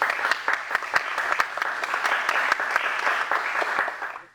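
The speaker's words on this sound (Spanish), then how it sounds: "Para todos ellos pedimos un fuerte aplauso." Audience applause for guests at a regional cinema panel discussion at La Casona de San Marcos in Lima, a steady burst of many hands clapping that fades out at the end.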